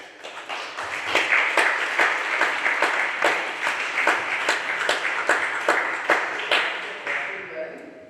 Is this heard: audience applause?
yes